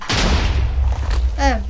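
An explosion in the Bedwars video game lands as a heavy boom at the start and fades into a rumbling tail, followed by a brief voice near the end.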